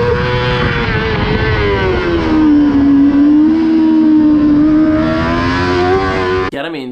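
A Moto2 racing motorcycle on a circuit holds a strong, buzzing engine note that dips and rises in pitch through a slide, heard close and loud before it cuts off abruptly near the end.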